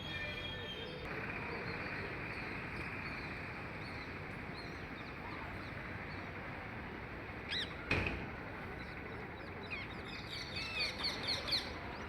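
Parrots and other birds call and chirp near a house against a constant hiss of outdoor background, with a few sharper squawks near the end, moderately distant.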